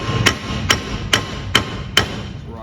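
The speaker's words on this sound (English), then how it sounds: "So I'm about to hit it with a hammer and see if it'll fall out." Five sharp metallic hammer blows strike a part of a two-stroke V8 engine at an even pace, loud and close, each with a brief ringing decay.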